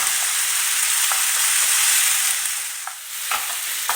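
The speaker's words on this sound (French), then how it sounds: "je laisse mes oignons revenir à feu moyen pendant 3 minutes" Onions sizzle in a pan over medium heat for a msemen filling, a steady bright hiss punctuated by a few light utensil clicks and a brief dip as the food is stirred.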